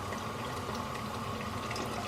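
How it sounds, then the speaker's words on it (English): Freshly boiled water from a kettle pours steadily onto lentils in a cooking pot, a continuous close liquid rush and splash lasting the whole moment with no talking. "we just boiled some water in a kettle, and we're going to add it to our lentils"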